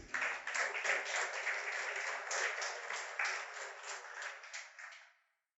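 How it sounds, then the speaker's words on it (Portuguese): A church congregation applauding together, dense steady clapping at a muffled, band-limited level that holds for about five seconds and then cuts off abruptly. "Você pode aplaudir o Senhor Jesus?"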